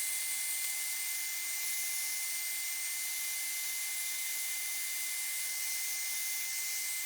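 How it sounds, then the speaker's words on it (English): A power sander runs steadily against the soft, punky bottom of a spalted hackberry wooden bowl, giving a constant high hiss with a low steady hum and no pauses. "I might be making a mistake with the way I'm sanding the bottom due to the softness and punkiness of the wood"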